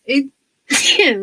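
A single sneeze bursts out at close range after a short vocal sound and a pause, loud and sharp, trailing into a brief voiced tail, during a painting and modelling session.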